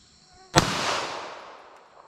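A single pistol gunshot cracks sharply at an outdoor range, firing .380 ACP, and leaves a short fading echo behind it.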